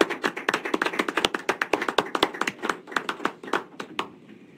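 A small group applauds at a county board meeting, with a couple dozen sharp, distinct hand claps in an uneven rhythm that thins out and stops after about four seconds.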